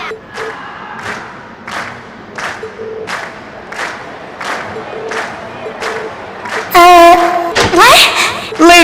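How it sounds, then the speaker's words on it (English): A video game concert audience in a large hall claps and chants in a steady rhythmic beat, then bursts into loud cheering and shouting after the performance. "we've heard your cheers loud and clear"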